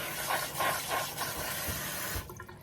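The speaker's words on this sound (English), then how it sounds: "We're going to give this another quick spritz." A spray bottle spritzes water over greens being prepared for the dehydrator, giving a few quick, close hissing bursts in a row followed by softer dripping and handling noise, with no one speaking.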